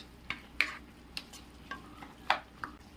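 Jackfruit seeds are stirred in a cooking pan, giving a handful of sharp, separate scrapes and clinks of the spoon over a quiet background with only a faint sizzle; nobody speaks.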